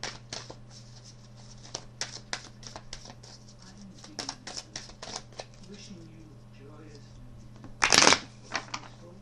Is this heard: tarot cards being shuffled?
yes